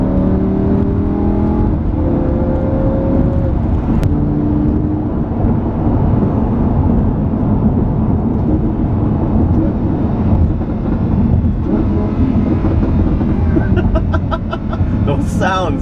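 A 2015 Lamborghini Huracán LP610-4 engine drones loudly and continuously during a drive, with bursts of crackling exhaust pops near the end as the throttle lifts.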